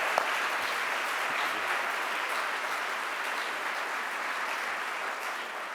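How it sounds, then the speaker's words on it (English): An audience at an award ceremony applauds steadily, a dense even wash of clapping from many hands that holds at a constant level throughout without a break or any voices. "give James a round of applause"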